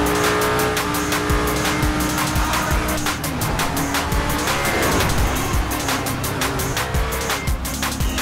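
Car in the GTA 5 video game driving hard with tires squealing, a loud steady engine roar with long screeching skids layered throughout.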